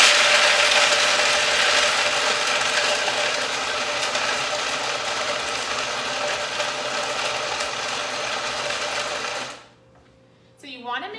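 A blender pulses nuts into a fine meal, grinding loudly and steadily for about nine seconds before cutting off abruptly, after which a voice begins speaking.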